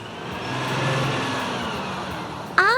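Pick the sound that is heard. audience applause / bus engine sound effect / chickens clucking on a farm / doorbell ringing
bus engine sound effect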